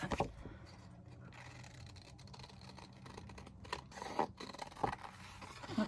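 Scissors snip through paper cut-outs for a junk journal, a series of quiet, close crisp cuts and light scrapes, with a few sharper snips toward the end and a soft room background.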